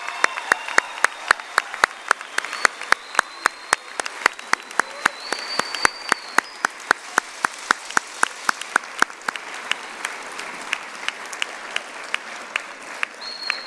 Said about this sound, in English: Shall we give them another round of applause, our graduates for the class of